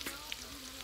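Chicken liver and gizzard frying in oil over moderate heat, giving a low, steady sizzle with faint bubbling pops, close by and quiet.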